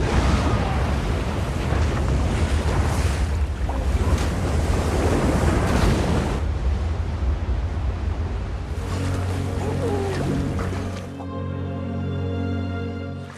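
A rushing river roars loudly and continuously, churning and splashing up close before easing near the end, with no voices.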